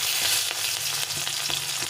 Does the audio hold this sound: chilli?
yes